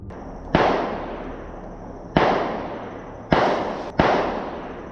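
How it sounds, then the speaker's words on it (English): Handgun fired in the woods, four sharp loud reports spaced unevenly over a few seconds, each followed by a short echoing decay, with no voices. "Someone in the woods was firing a handgun directly in his direction."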